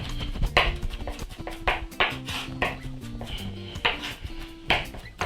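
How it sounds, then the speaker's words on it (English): Rapid knife chops on a cutting board as an onion is finely chopped, sharp and close, in an uneven rhythm with some tonal clinks between strikes. "So let me just make one quick chopping pass."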